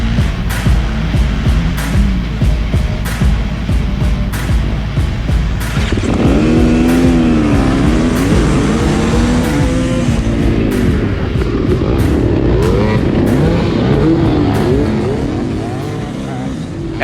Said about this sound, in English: We have a dead engine start coming up, going off on 30-second goes.